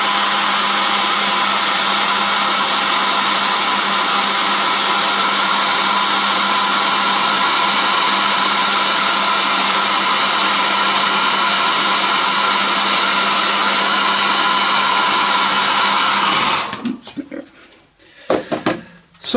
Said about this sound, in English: I might just give it a good blast with the hairdryer